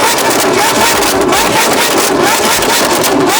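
Car engines rev at a crowded car meet, a loud, continuous roar with wind buffeting and rising and falling engine tones, brief voices in the crowd.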